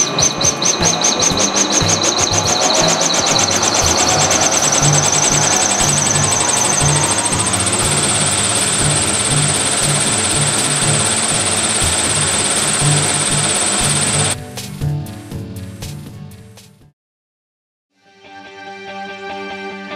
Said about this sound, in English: We're going to start this air compressor for comparison.